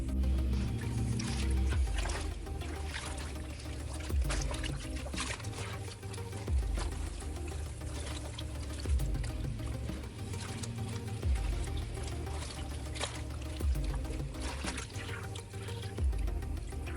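A Tusken Raider costume robe and its soaking liquid are dumped out after an hour's soak, giving a continuous close sloshing pour and trickle of water with irregular splashy surges throughout.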